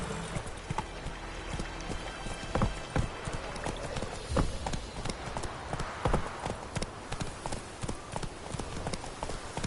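Roach, Geralt's horse in The Witcher 3, trots along with steady, rhythmic hoof clip-clops, close and clear over a soft outdoor game ambience.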